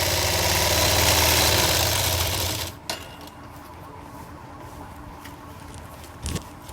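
A sewing machine stitches gathered frills on loose summer palazzo pants, running in a loud steady burst for a few seconds before stopping, followed by quieter handling noises and a brief bump.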